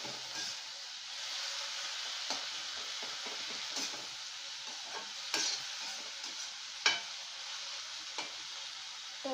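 Tomatoes are stir-fried with browned onions for hotel-style gobhi matar, a soft continuous sizzle punctuated by intermittent spatula scrapes and taps in the pan, fairly quiet and close.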